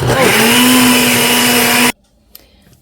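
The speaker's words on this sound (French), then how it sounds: "j'ajoute un verre d'eau et là, je vais mettre mon blender" A kitchen blender whirs loudly and steadily as it purées carrots with a glass of water, then cuts off abruptly, leaving near silence.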